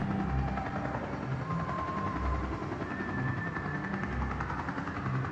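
A noisy helicopter circles overhead in the video game Dreams of Another, its rotor beating in a steady pulsing drone with a low rhythmic thump, constant and moderately distant throughout.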